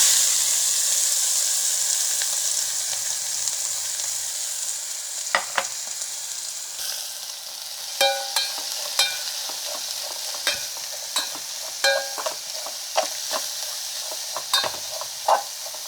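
Small dilis anchovies frying in hot oil in a pan give off a constant close hiss, with rhythmic scraping and clicking of a utensil stirring them becoming frequent partway through, no voices.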